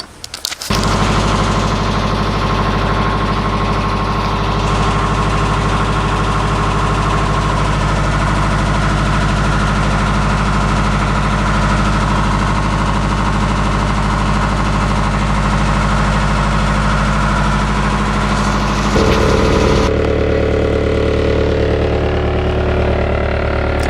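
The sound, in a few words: boat engine starting and idling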